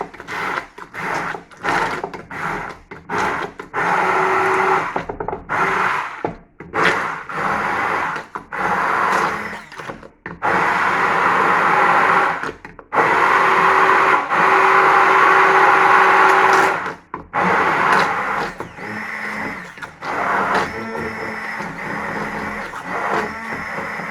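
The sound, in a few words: blender pureeing courgette and cheese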